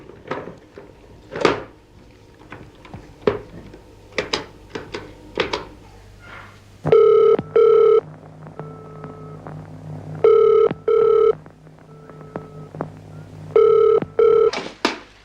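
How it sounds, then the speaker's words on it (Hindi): A telephone is dialed and then rings in an office, starting with a run of sharp clicks and taps before loud double-burst rings repeat in a regular pattern, close and clear. "मिस्टर विजय, आपने इस लड़की को फोन कर दिया? मैं अभी कर देता हूँ।"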